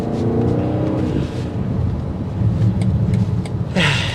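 2024 BMW X5 M60i with its twin-turbo engine pulling hard in sport mode, a deep rumbling exhaust roar building under acceleration, heard from close by with a brief whoosh near the end.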